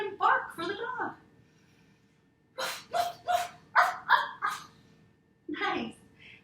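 Children imitate a dog with their voices, giving several short, loud barking yips in quick bursts, separated by pauses.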